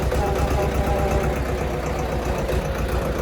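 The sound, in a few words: tractor engine running at full speed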